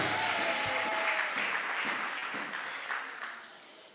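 A church congregation applauds for Jesus at a Swahili-language service, with dense, sustained clapping that slowly fades over a few seconds.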